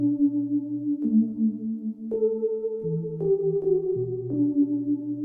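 A smooth synth melody of sustained notes, stepping to a new pitch about once a second over a steady low tone, with no voices.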